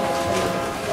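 Train sound effect played in a church service, a brief, loud rumble of rail cars with a tonal horn-like hum running under it.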